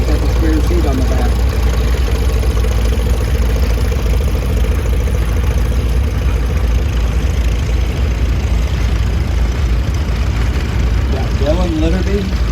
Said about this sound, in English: Farmall model H, R. Bettenhausen from Manteno, Illinois.